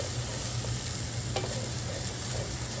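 Turmeric and coriander powder spices frying in a pan over medium-high gas, a steady close sizzle with a brief stirring scrape, no talk.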